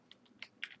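A few quick, light clicks of keys on a computer keyboard, close but faint, spaced irregularly with no talking.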